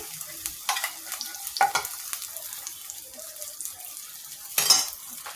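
Sliced onions sizzle gently in butter with garam masala, while a utensil stirs and scrapes the pan in a series of sharp clicks and taps, with one louder clatter near the end.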